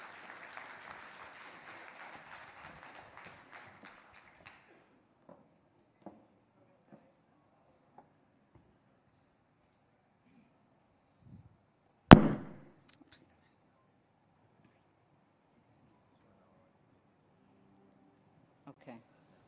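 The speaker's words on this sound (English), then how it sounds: "Let's give her a warm round of applause, please." Audience applause at the Gauteng Investment Conference greets the MEC, a steady patter of clapping for about four seconds that fades into quiet room noise, followed much later by one sharp loud bang and a few faint knocks.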